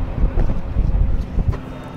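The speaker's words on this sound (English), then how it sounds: "what a windy day." Steady gusty wind buffets the microphone with a low rumbling roar that swells and dips throughout, no voices heard.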